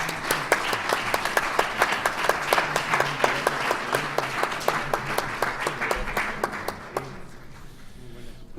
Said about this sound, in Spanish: Un aplauso fuerte a todos ellos.